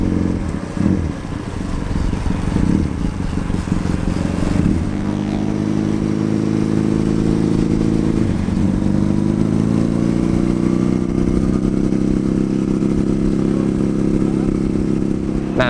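A custom Triumph bobber motorcycle on a test ride, its engine holding a steady, loud mid-pitched drone throughout with a brief clattering shift or rev change early on, heard alone without talk.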